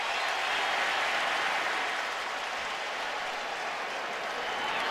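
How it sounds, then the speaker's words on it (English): A large, mostly Crimson Tide football crowd at a 2011 Arkansas versus Alabama game applauding and cheering, a loud, dense, steady roar of clapping and voices lasting the whole stretch with no commentary over it. "this predominantly Crimson Tide crowd shows its appreciation"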